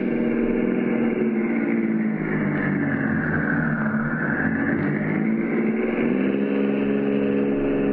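Radio drama effect of a car driving around the block: a steady engine drone whose pitch dips and rises as the vehicle passes, loud and continuous throughout with no voices.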